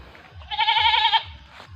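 A single goat bleats once, a loud, wavering cry lasting under a second, close by, with low rumbling in the background.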